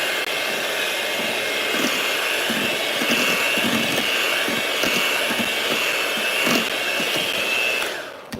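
An electric mixer whirs loudly as it blends eggs one at a time into batter for a Basque cheesecake, a constant high motor drone with slight wavering that runs nonstop before cutting off at the end.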